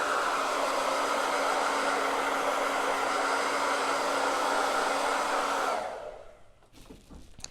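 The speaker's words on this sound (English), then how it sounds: "I'm just gonna hit these with our heat or our hair dryer." A hair dryer blows steadily and loudly on a window decal for a home holiday window display, a constant whooshing hum with a faint whine, then switching off near the end and leaving a quiet room.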